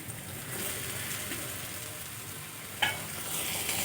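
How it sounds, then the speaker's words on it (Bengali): Pieces of fried fish go into a pan of cooked spice paste sizzling in oil, giving a steady, close-up frying hiss with a sharp crackle as the food hits, then stirring noises under the continuing sizzle. "এখন আমি ভেজে রাখা মাছগুলো দিয়ে দেব।"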